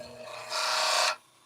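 A scraping tool is pressed against a spinning wooden wand on a woodworking lathe, giving a steady, close, bright rasping hiss that swells to a strong sustained scrape for about half a second, then cuts off abruptly.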